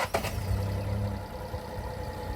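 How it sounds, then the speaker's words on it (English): A Skoda Citigo with an MPI petrol engine on the move, a steady low engine drone and road rumble from inside the small car, with a brief knock near the start. "So we're out on the move now in the Citigo, and we will see how it drives."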